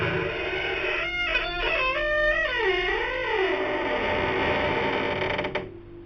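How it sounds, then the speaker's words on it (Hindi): A door creaks slowly open in a haunted-house horror scene: one long, loud, wavering wooden groan that bends in pitch and then cuts off, with no voices. "राघव दरवाजा खोलकर देखता है,"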